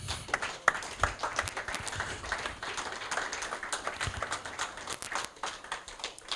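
Church congregation clapping and applauding during a worship service, a steady dense patter of many hands with scattered sharper claps, moderately distant and continuous throughout.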